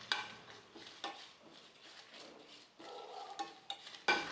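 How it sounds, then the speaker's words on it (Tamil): Sesame seeds and four dried red chillies dry-roast in a pan, with a faint crackle and repeated scraping stirs and metallic clinks of a spoon against the pan at irregular intervals. "கூடவே காரத்துக்கு 4 வரமிளகாய் சேர்த்துட்டு நல்லா வறுத்து எடுத்துக்கலாம்."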